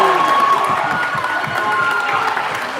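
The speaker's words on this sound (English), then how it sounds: "Crowd getting loud for that effort by George Villegas." Loud crowd cheering and shouting in a gym at a high school varsity basketball game, Salesian versus Spellman, a continuous roar with scattered claps and kids' voices, steady for the whole stretch.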